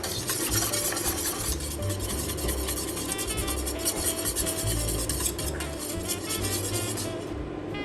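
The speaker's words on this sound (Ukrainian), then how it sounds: "Постійно помішую, добре походжуся по дну, щоб ніде нічого не пригоріло." Continuous scraping and stirring of jam in a thick-bottomed pot, a spoon rasping steadily against the bottom with a soft bubbling underneath.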